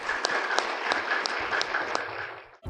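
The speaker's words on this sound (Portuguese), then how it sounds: "A plateia se despede com aplausos." A theatre audience applauds to close a Sempre Um Papo talk with author Letícia Finamore, a dense, steady wash of many hands clapping with a few sharper claps standing out, fading away just before the end.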